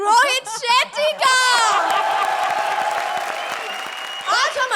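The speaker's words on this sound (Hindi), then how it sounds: "round of applause" Studio audience at a Hindi comedy show breaking into applause with some laughter and whoops; a host speaks at the start and again at the end, with clapping filling the middle.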